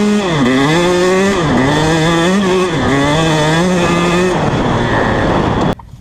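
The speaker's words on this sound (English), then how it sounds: "shift up without the clutch, then back onto the gas." A dirt bike engine is ridden hard and upshifted without the clutch, its steady loud drone dipping and climbing through several gear changes before cutting off abruptly near the end.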